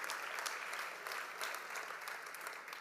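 Audience applause at the Mercer Street Friends Leadership Awards Celebration, a thick, continuous clapping from a large crowd in a hall, steady and moderately distant with a few sharper claps standing out.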